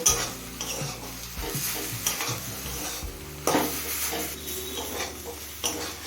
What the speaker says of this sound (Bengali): এবার হাই ফ্লেমে জলটা শুকিয়ে আসা পর্যন্ত ভেজে নেব